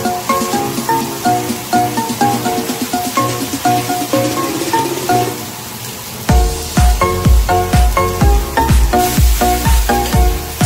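Home-style bean sprouts and fried noodles with soy sauce sizzle and get stirred in a pan, a steady frying hiss broken by repeated clatters of stirring.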